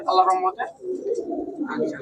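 Indian and Pakistani high-flyer Giribaz pigeons coo in soft, low, rolling phrases close by, overlapping with someone talking.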